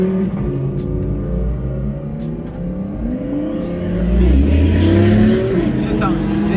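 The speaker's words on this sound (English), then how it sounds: "Twin turbo Huracan sounds just crazy." Twin-turbo Lamborghini Huracan on Los Angeles streets, its engine droning loud and close, then revving up and rising in pitch toward the end; the speaker's voice is heard over it.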